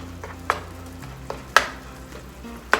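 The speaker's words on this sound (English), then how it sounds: "So I'm just letting this turkey ground cook down some" Ground turkey cooking down in a pan for a stir fry, with a steady low sizzle under a few sharp utensil scrapes and clinks, close and moderately loud, no talking.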